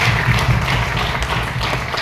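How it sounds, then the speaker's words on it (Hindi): Seminar audience gives a round of applause for a guest, steady dense clapping filling the room throughout with a faint murmur underneath. "उनके लिए भी एक बार जोरदार ताली होनी चाहिए"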